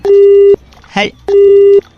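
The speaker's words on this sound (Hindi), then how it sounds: "कोई सिग्नल में प्रॉब्लम लग रहा है, फोन कट गया था" Telephone disconnect tone after a call drops: two long, steady, loud beeps separated by a pause, with a short burst of voice in the gap.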